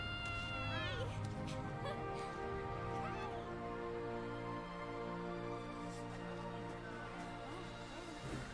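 Cat meows in Monster Hunter World: Iceborne, several soft, tonal mews over a steady game soundscape with a continuous musical drone.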